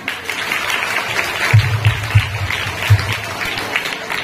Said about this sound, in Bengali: তোমাদের একটা হাততালি আমি দিচ্ছি